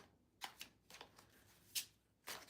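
Cards riffle and snap in several quick bursts, soft and close, separated by short quiet gaps with no talking.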